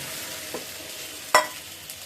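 An egg sizzles steadily in a frying pan on a home stove. A soft scrape and one sharp utensil clack against the pan mark the stirring. No one speaks.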